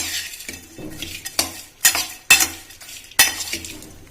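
A spoon scrapes and clinks against a bowl while Kurkure chaat ingredients are stirred and mixed. Sharp metallic knocks stand out over a soft rustle of crunchy snacks.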